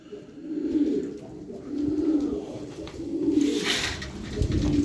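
Several pigeons coo nearby in repeated low, rolling phrases that swell and fade in waves, set against steady background hiss and no speech.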